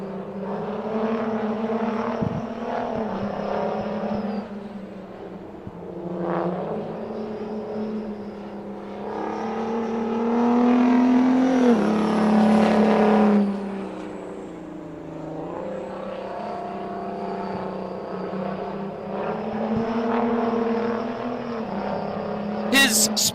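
Racing at a speedway, a 1979 Mack R700 big rig throbs with a loud diesel roar that swells as it passes and fades again. An announcer talks over the engine noise.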